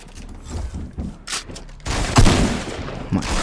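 Video game gunfire, a burst of shots and explosive bangs that swells loud midway and stays dense, with a quieter rumble and scattered blasts before it.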